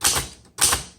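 A 1929 Underwood four-bank vintage typewriter with a wood grain finish types out three sharp, loud, close mechanical strikes, each with a bright metallic snap, spaced about half a second apart.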